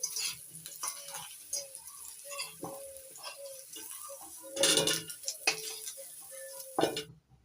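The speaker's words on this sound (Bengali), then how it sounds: "লবণ হলুদ গুঁড়ো দিয়ে নাড়াচাড়া করে লাল লাল করে ভেজে নেব আলুগুলো লাল করে ভেজে নিয়েছি এবার তুলে নিচ্ছি" Potatoes frying in mustard oil with turmeric and salt, a faint sizzle under repeated scraping and clinking of a spatula against the pan, with a louder burst of stirring midway.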